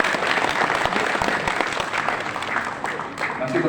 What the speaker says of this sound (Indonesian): Mari tepuk tangan sekali lagi.